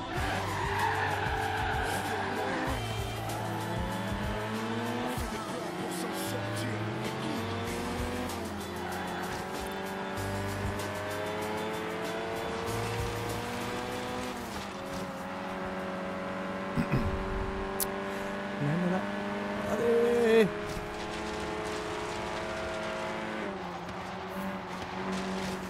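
A car drives and skids in Forza Horizon 3, its engine droning and shifting pitch continuously while tires squeal through turns, steady and loud for the whole stretch with a few sharper knocks.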